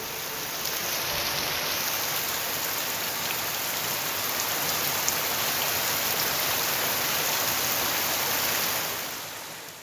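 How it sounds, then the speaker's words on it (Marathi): Steady drizzling rain in rural Kolhapur, a dense even patter of drops on surfaces that holds constant for nearly ten seconds before easing slightly at the end, with no voices. "पावसानं पुन्हा सकाळपासून रिमझिम स्वरूपात बरसण्यास सुरुवात केली आहे."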